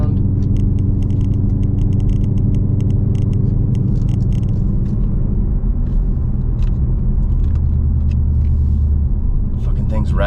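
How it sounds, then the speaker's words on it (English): Supercharged Mustang GT fitted with a Whipple Gen 5 3.0L supercharger, cruising near idle at about 30 mph, gives a steady low engine rumble with harmonic drone, some rattles and road noise, heard from inside the car. "We're basically just at idle cruising, essentially doing 30 miles an hour."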